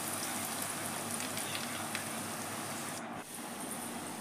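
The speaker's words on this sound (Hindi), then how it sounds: "हमें इस तरह से फ्राई करना है" Chicken potato donuts frying in hot oil over medium heat, a steady dense sizzle and crackle that stays even and close throughout, with a brief dip near the end.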